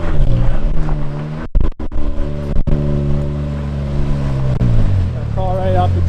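A Can-Am X3 side-by-side crawls off a bent, damaged trailer, its engine droning loud and close with shifting revs and a few brief throttle cuts.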